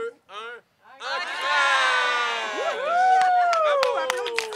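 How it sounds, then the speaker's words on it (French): An indoor crowd at a daycare inauguration breaks into cheering and whooping with scattered applause, loud and close, with bright shouts and clapping layered together after a brief count. "Bravo, applaudissez!"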